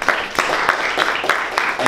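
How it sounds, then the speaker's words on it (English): An audience at a scientific congress applauds steadily, a dense patter of many hands clapping at once, fairly close and continuous. "So give him a warm applause for Raphael"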